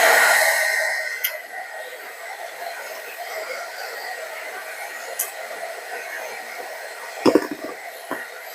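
Steady airy whoosh of a hot-air heat tool warming a plush art doll's pacifier, loudest at the start then holding at an even level, with a couple of soft bumps and handling noises near the end.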